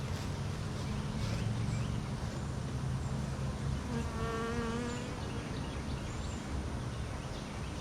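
Honey bees buzzing in a dense, steady drone as they are brushed off a hive frame with a bee brush, close and continuous, with a brief higher whine partway through and no talking.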